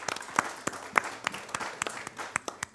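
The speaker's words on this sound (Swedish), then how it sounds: "Också en applåd." Scattered applause for a guest introduced on a Swedish energy policy panel, a modest audience clapping in sharp, uneven claps at close range for under three seconds.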